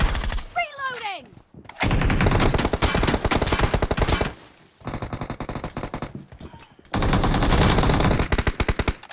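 Video game gunfire: long, loud, close bursts of rapid machine gun fire in three sustained strings with short gaps, preceded by a brief whooshing sweep and a few scattered shots.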